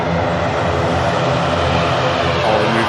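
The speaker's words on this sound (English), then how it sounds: "Aircraft just in from the Isle of Man." An aircraft arriving at Manchester Airport from the Isle of Man, a steady, loud engine drone with a constant broad roar held throughout the short stretch and no speech.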